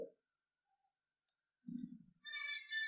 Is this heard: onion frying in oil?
no